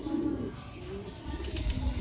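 Domestic pigeons kept by a hobby breeder coo softly at close range, a low rounded call at the start over steady room noise, with faint rustling and movement later.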